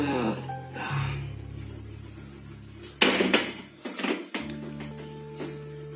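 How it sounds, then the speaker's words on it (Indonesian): Oil being stirred in a Teflon pan while cooking mentai: a few scraping, clinking strokes of a utensil against the pan, close and fairly quiet, with a steady background hum. "Kita aduk-aduk dulu biar rata."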